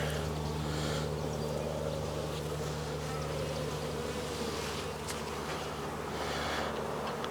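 Honeybees buzz in a dense, steady drone during the second weekly hive inspection, loud and close throughout with no pauses.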